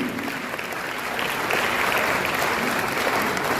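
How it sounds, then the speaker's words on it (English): Conference audience at the Africa Prosperity Dialogues 2025 breaks into loud, sustained applause, a dense continuous clapping that swells slightly midway and holds steady to the end. "Please, a round of applause for a woman who breaks ceilings."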